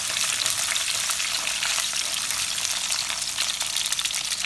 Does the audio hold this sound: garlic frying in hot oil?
yes